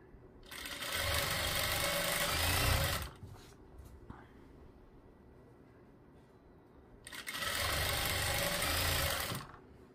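Sewing machine stitching a seam on a suit, running in two steady, loud bursts of about two and a half seconds each, separated by a quiet pause with faint handling noise.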